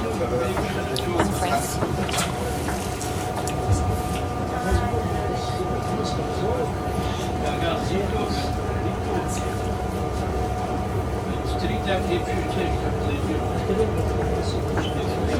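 A Swiss train on the way to Zermatt rumbles along steadily with faint clicking of wheels on the rails, and a low hum underneath; people talk softly inside the carriage.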